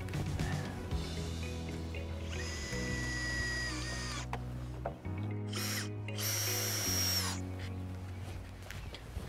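A power drill whines in several bursts while fastening joist ties on an above-ground pool deck built with Trex decking, the motor winding up and down close by with short pauses between runs; people talk faintly.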